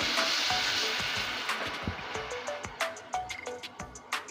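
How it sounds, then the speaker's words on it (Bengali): Water splashes into a pan of frying onion and garlic for a Bengali fish curry, bursting into loud hissing sizzle that fades, followed by repeated clinks and scrapes of stirring in the pan. "প্রথমে আগে একটু জল দিয়ে দিচ্ছি নাহলে মশলাটা পুড়ে যাবে"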